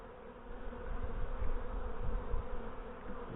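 Honey bees buzz in a low, steady drone from an opened hive, the murmur swelling slightly midway and staying continuous throughout, with no voices.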